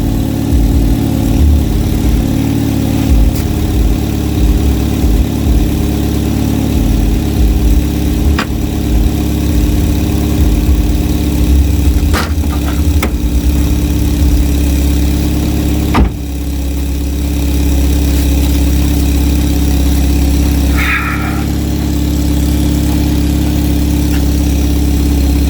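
A Ford Fusion engine idles with a small exhaust leak at a clamp, producing a loud, steady low rumble throughout with a faint hissy puffing layered on top and a brief dip midway.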